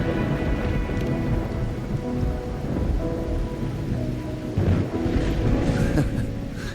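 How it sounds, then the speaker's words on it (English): Steady heavy rain pours in a Wuthering Waves game scene, with low rumbling thunder rolling underneath and a brief louder swell near the end. "Or are you simply passing the time until the rain ends?"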